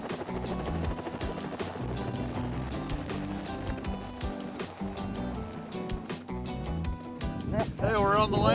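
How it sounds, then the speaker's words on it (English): A helicopter carries a group out to remote caribou rutting grounds in Newfoundland, its steady thudding rotor and engine drone running under music for the whole stretch. "So we loaded up in the helicopter and took off for the rutting grounds"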